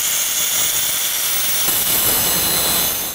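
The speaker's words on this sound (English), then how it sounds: "I'm going to grind down the factory weld a little bit to make it nice and flat" An angle grinder working down a factory weld on a Toyota 4Runner steel frame gives a loud, continuous harsh metallic whine and hiss up close, steady for about three seconds with no voices.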